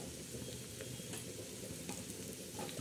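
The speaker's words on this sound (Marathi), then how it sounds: "असा हा कांदा चांगला भाजायचा" Onion fries in a pan for black masala chicken, a dense, steady sizzle and crackle heard close up with occasional faint stirring scrapes and no voices.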